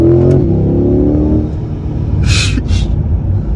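A 2022 Chevrolet C8 Corvette 1LT Z51 pulls hard in second gear on a highway, its engine roaring loud and close before easing into a lower rumble with a couple of short airy hisses.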